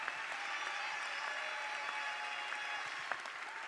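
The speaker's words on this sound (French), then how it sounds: "Est-ce qu'on peut l'applaudir, s'il vous plaît?" Steady, full applause from an audience at a scholarship awards ceremony, with continuous clapping from many hands sustained throughout.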